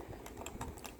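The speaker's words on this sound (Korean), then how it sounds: "제가 이번에 키감을 좀 진짜 들려드리고 싶은데, 이게 약간 근데 키압이 조금 있는 편이에요" Soft, muted keystrokes on a Topre Type Heaven 45g keyboard, several quick presses in a short burst, quiet and close with no voices.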